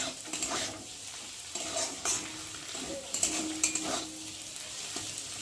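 Scrambled egg being stirred together with potatoes in a pan, a spatula scraping and clinking against the metal over a steady soft sizzle, with no voices.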